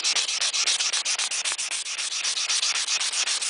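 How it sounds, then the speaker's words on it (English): Stainless steel trim being hand sanded with 400 grit sandpaper, a close, steady scraping rub in quick regular back-and-forth strokes throughout, with no talking. "I continue to try to move my paper around so that I get new sandpaper on it, because the grit gets wore down very fast from stainless"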